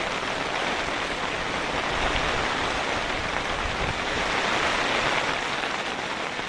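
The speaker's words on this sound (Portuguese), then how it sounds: "pezinho d'água bom aqui" Steady rain shower pouring down outdoors in a rural spot where smoke drifts from a nearby fire being put out, a dense, even hiss of drops on surfaces holding constant for the whole stretch, close and fairly loud with no voices.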